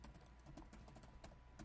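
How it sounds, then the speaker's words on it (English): Rapid, steady clatter of keys on a computer keyboard, typed very fast in a quiet room, with a continuous patter of soft clicks and occasional sharper taps. "Now, I'm typing really fast,"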